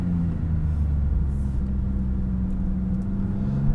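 A 2024 Maserati MC20 Cielo taking a tight hairpin on a mountain road, a steady low engine rumble with a faint rising whir, heard from inside with no talk.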